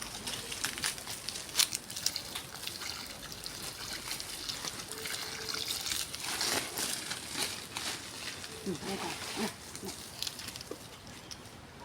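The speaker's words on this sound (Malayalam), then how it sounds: "കണ്ടല്ലോ കൊലക്ക് വെള്ളം നനക്കും പൈപ്പിട്ടിട്ട്." Water trickling from a pipe onto a banana plant, a soft continuous dribble and splash with scattered rustles and knocks nearby.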